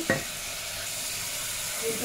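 Spice masala sizzles and fries steadily in a pan while being stirred, with a scraping stir at the start over a continuous hiss.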